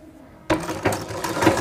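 An umbrella-brand sewing machine starts stitching after a quiet moment, giving a rapid mechanical clatter of needle and gears, close and steady, with no talk.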